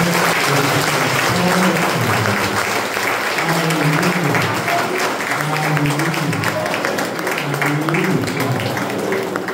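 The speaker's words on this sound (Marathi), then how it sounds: "आपण टाळ्या वाजवायच्या." A church congregation claps hands together in a loud, sustained burst, while voices sing or speak in a steady melodic line over the clapping.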